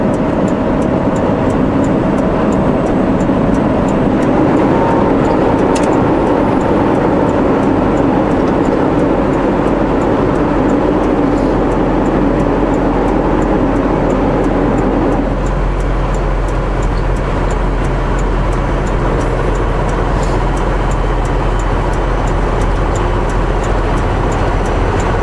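A loaded truck rolls downhill with a loud, steady engine drone and road rumble that changes tone partway through as it shifts to a different gear.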